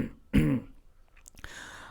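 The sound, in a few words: narrator imitating throat clearing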